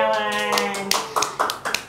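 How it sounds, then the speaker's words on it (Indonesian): An audience at a civil-service event for BNPB staff claps in scattered bursts, with a few louder claps toward the end, following a sustained voice at the start. "Tepuk tangan dulu buat Pak Heriawan"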